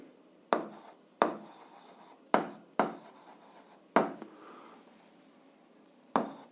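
Chalk or pen taps and scratches while an algebra equation is written out, with half a dozen sharp strokes at uneven intervals and faint scraping between them, quiet and close, with no talking.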